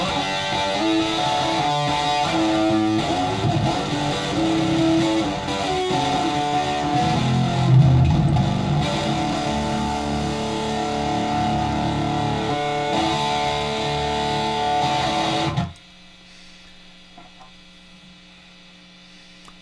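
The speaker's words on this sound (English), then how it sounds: "Square root is doing the distortion." A loud, dense, buzzing distorted tone shaped by the square root distortion of an Airwindows audio plugin, held steady for most of the clip before it cuts off abruptly to a faint residual hum.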